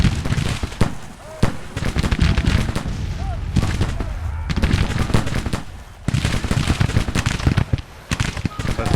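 Musket volleys and scattered rifle fire in the Civil War video game Grand Tactician: The Civil War, dense crackling shots in repeated bursts with brief lulls, battle noise close and loud throughout.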